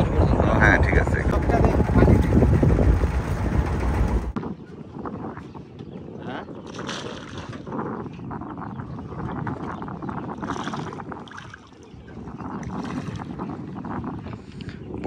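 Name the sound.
trawler boat engine running on the water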